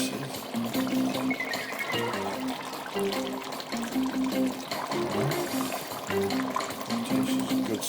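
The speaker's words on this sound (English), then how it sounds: "I'm going to add some liquid because I need to add some" Liquid pours into a pot of Jamaican curry goat in a steady trickle lasting several seconds, with a continuous musical bed running underneath.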